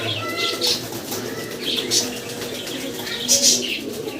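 Lahore fancy pigeons coo repeatedly at close range, with bursts of wing flapping and soft chirps over a steady low hum.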